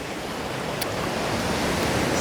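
Sea waves at Praia Formosa, a black-sand beach on Madeira, give a continuous, close, loud roar of breaking surf and hiss with no talking.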